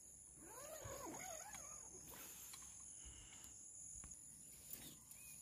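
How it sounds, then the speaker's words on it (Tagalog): Crickets chirp steadily through a quiet natural setting on a countryside ride, a faint continuous high trill with occasional bird-like calls and soft rustling, no talking. "Ang maririnig mo lang ay ang huni ng kuliglig."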